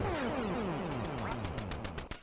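Duck in a video game quacking repeatedly, a series of descending nasal quacks close and loud, followed by a few sharp clicks at the end.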